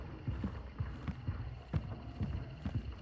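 A horse in the video game Hunt: Showdown stamps its hooves. Soft, low, irregular thuds repeat under a quiet background hum, with no speech.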